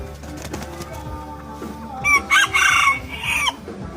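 A Serama chicken clucks softly at first, then lets out a loud, close crow in several bursts over faint background sounds.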